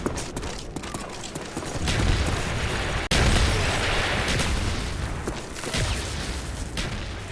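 Mortar strikes land in the Black Ops video game with heavy, rumbling booms. Bursts of gunfire crackle amid the sustained loud blasts, and one sharp cut falls midway through the dense battle noise.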